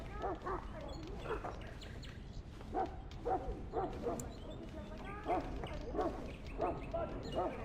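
A hound in the video game Dragon Age: Origins, loose in a castle kitchen, gives repeated short barks and yips in uneven bursts over a steady background of game ambience and music.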